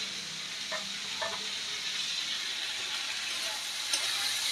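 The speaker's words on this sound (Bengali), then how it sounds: "সবজিটা আমার ভাজা হয়ে গেছে," Mixed vegetables, including tomato, fry in a pan for vegetable Maggi with a steady close sizzle, broken by several scraping strokes of a spoon stirring them.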